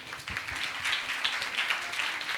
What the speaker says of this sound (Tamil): சரி, எல்லாருக்குமே ஒரு கைத்தட்டு கொடுத்துருவோம்.